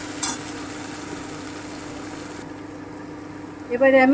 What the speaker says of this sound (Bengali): আমি একটু ভেজে নিচ্ছি